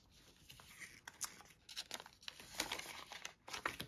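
Paper budget envelopes handled up close, giving a steady run of soft crinkling and rustling with a few sharper crackles, quiet and without talk.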